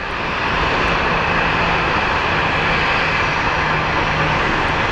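An airliner arriving from Fresno at Phoenix Sky Harbor International Airport roars steadily at close range, a broad, constant jet engine rush with no talk.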